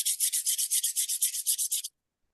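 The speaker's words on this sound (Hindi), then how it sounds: "अपने हाथों को अच्छे से रब करेंगे।" Palms rubbed briskly together in a quiet room, about fifteen quick regular back-and-forth strokes of dry friction for roughly two seconds, then silence.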